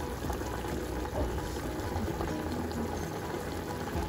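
A pot of squash stew simmers at a rolling boil, a constant low bubbling and gurgling heard close up without any talk.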